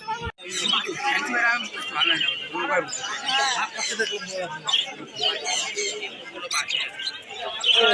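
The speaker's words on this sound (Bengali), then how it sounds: "তো এখন চলো তোমাদেরকে পায়রার ভিডিও দেখাচ্ছি।" Pigeons chirp and coo amid the hubbub of a busy Bhimnagar market, with nearby voices and crowd chatter running almost continuously over the birds.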